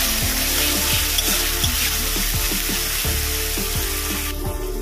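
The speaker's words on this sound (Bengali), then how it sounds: "আমি এর মধ্যে দেব আদা রসুনের পেস্ট, ভালো করে এটা কষিয়ে নেব।" Ginger-garlic paste sizzles loudly in hot oil with onions in a pan for a boal fish curry, a steady crackling hiss with a spatula scraping and stirring in regular, repeated strokes, and no talking.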